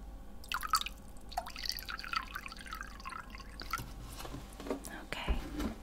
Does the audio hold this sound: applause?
no